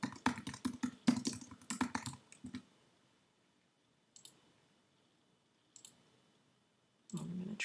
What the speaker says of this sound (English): just type in some text